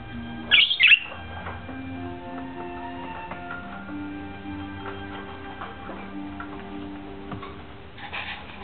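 Pet birds indoors give a brief loud squawk near the start, then softer scattered chirps and ticking calls over a quiet room.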